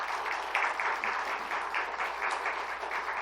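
Church congregation applauding the Hallelujah choir and Hephzibah praise team during a Thanksgiving Sunday service, steady moderate clapping in pulsing waves, filling the room without voices.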